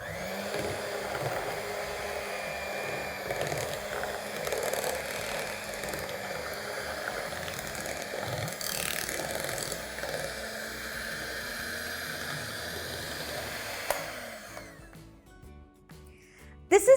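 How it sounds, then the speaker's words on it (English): An electric whisk whirs steadily as icing sugar and vanilla are beaten into cream for an eggless tiramisu, a continuous motor drone running for most of the clip before stopping. "You don't need to whisk this for a very long time, just for a minute or two till the sugar is nicely mixed."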